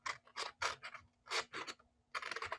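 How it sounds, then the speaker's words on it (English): Scissors cutting paper during a preschool Sunday school craft, a series of quick close snips in short bursts separated by brief pauses, crisp and dry with no talking. "And I'm just going to cut really quickly."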